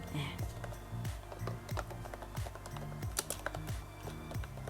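Someone types fonts into Goodnotes on a keyboard, producing a run of quick, close key clicks in an uneven rhythm, with a voice talking underneath.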